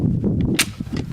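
A single loud, sharp pistol shot from a Ruger 57 cracks out in open desert, a brief broadband burst standing above steady low wind rumble.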